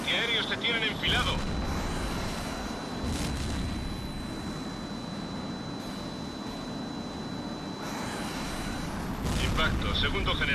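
Anti-aircraft guns fire in the flight combat game Tom Clancy's HAWX, a dense, continuous rumbling barrage of heavy bursts blended with jet roar, loudest at the start and end.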